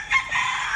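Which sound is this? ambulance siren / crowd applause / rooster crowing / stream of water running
rooster crowing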